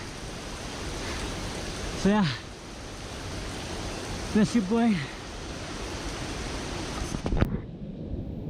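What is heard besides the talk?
water flowing and dripping on a monsoon trekking trail in Nepal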